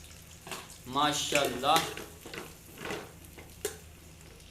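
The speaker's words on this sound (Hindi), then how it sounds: "घी को हमने अच्छी तरह गर्म कर लेना पहले। उसके बाद हमने इसके अंदर प्याज ऐड करने।" Onion sizzles and fries in hot ghee in a pan while being stirred, with a steady soft crackle running underneath a person speaking.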